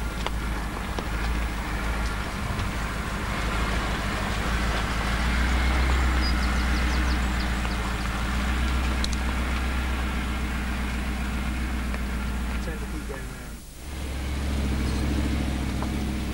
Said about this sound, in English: David demonstrates what happens if you attempt to drive through deep ruts